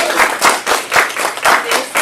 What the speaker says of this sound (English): Round of applause for all of our friends